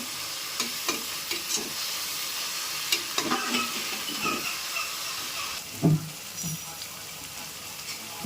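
Greens sizzling and frying in oil in a pan for Tamil Nadu style mutton biryani, with steady close hiss and intermittent scrapes and clanks of stirring, no talk.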